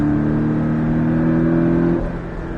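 A Porsche Cayman S on a driving course holds a loud, steady engine note from inside the car that rises in pitch, then drops off sharply as the throttle eases after about two seconds.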